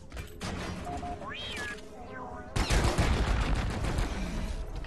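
Gunfire and mechanical weapon sounds from the video game Deep Rock Galactic, with bursts of rapid shooting that grow louder and denser midway through, heard alongside game effects.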